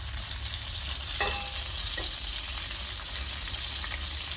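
A fatty New York strip steak sizzles steadily in a hot pan, a constant close frying hiss with a couple of brief clinks or scrapes partway through.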